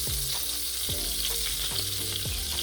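Butter and oil sizzle steadily in a pan for pasta sauce, a continuous bright frying hiss with a few soft utensil knocks scattered through it, fairly close and with no voices.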